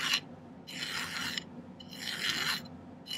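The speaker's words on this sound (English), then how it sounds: "Let me file the end of this flat." A metal hand file rasps across the end of a silver pendant piece to flatten it, two long, gritty strokes with a pause between, close and clear with no talking.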